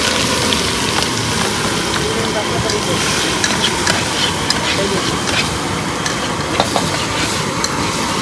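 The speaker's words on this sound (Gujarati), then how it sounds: "તેલ ગરમ થઈ ગયું હો આપણે આના અંદર જીરું નાખવાનું હો અને મરચું નાખે એનો વઘાર કરી" Cumin and chili crackle and sizzle in hot oil for a samosa-filling tempering, a steady bright frying hiss with scattered pops, while a voice talks nearby.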